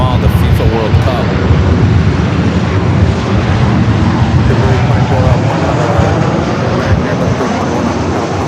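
TAP Air Portugal airliner in a special FIFA World Cup livery at Los Angeles LAX, its jet engine roar loud and steady throughout, with broadband rumble under someone talking.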